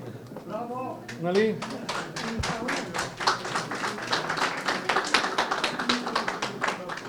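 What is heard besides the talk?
audience applause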